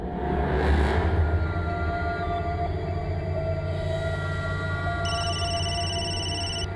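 An electronic telephone ring, stacked high tones that start abruptly partway through and repeat steadily, sounds over a loud, dense bed of party noise.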